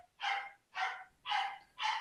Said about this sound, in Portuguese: desculpem o barulho aqui, os cachorros estão animados